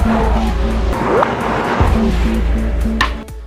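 A 2025 Mazda CX-5 compact SUV with its tires starting to break traction, a loud engine roar with a short rising tire squeal over steady road noise.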